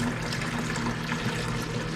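Potato starch water being poured out slowly and gently, a steady soft liquid trickle with a low continuous wash, close and even throughout.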